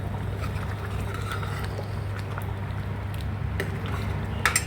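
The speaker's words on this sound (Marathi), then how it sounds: "छान उकळी आली" Dal bhaji, a Vidarbha-style lentil dish, simmers at a rolling boil in a covered pot, giving a steady low bubbling and hissing that stays even throughout with no voices.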